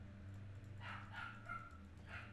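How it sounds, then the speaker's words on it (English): A female dog yips and barks faintly in the background, a few short high calls over a low steady hum, distant and quiet. "Pardon my dog in the background if you can hear her."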